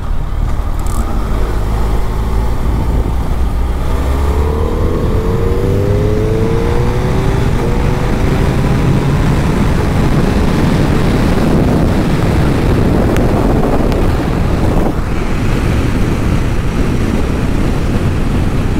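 A 2021 Suzuki Hayabusa motorcycle riding on the road, with loud, constant engine drone and wind roar throughout, and rising engine tones as it pulls through gears, close and unbroken, with no talk.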